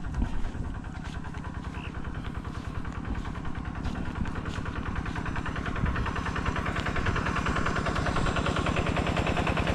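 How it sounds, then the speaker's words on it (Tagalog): A diesel engine driving an irrigation pump on a calamansi farm chugs in a fast, steady rapid knock, running continuously and fairly close with no pauses. "patayin ko muna yung makina natin sa baba"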